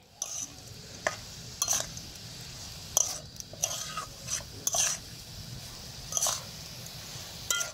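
Coconut and jaggery filling for vapa puli being stirred in a pan, with soft scraping and squishing strokes over a low sizzle and scattered sharp clinks of the utensil against the pan.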